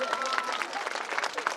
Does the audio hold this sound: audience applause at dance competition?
yes